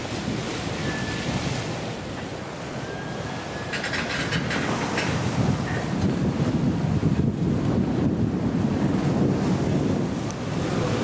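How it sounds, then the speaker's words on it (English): A ship cruises at about five knots over a very calm Atlantic sea, heard from the bowsprit: a steady wash of waves and surf with continuous wind rushing across the microphone, a constant even roar with no voices. "As we cruise gently along at about 5 knots over a very calm sea."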